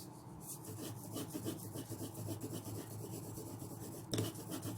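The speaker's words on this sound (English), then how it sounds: "Now I will rub the extra lines" An eraser rubbing out extra pencil lines on a still life shading drawing on paper, making a continuous close scratchy back-and-forth friction that runs steadily throughout.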